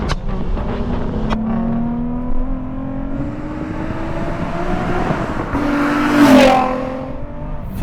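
A Nissan 350Z engine pulls hard through the gears, its pitch climbing steadily, then a sharp shift bark with a pop and fresh rise near the end, loud and close from inside the car.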